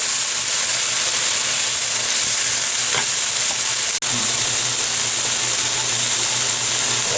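Brussels sprouts stir frying in a hot pan, a loud and steady hissing sizzle with steam that runs unbroken throughout, with a single sharp click near the middle.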